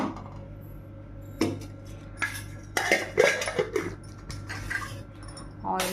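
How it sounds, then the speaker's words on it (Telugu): A pan set down on a stove with clanks and metallic knocks, followed by a short clatter of utensils as a little oil is poured in, close and moderately loud. "ప్యాన్ పెట్టాను. కొంచెం ఆయిల్ పోస్తున్నా."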